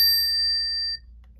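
A bell on a Portland Bike Works motorized electric bike gives one bright ding up close, ringing clearly for about a second before stopping abruptly.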